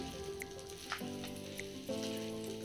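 Small bay leaves drop into hot, foamy oil and butter for paneer butter masala, giving a steady close sizzle with a few brief clicks and stirring sounds.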